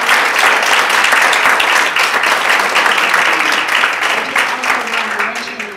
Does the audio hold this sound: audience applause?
yes